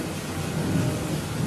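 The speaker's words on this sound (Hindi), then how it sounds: "आसमान में जोर से बिजली कड़की और बहुत तेज बारिश होने लगी" Steady heavy rain with a low rumble of thunder underneath, a dense continuous wash of sound.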